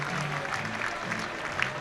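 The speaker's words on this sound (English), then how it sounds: "good round of applause for him" Cricket crowd at an England Lions versus South Africa 50-over match applauding a departing batsman, a steady dense patter of clapping at moderate distance with faint commentary-like voices underneath.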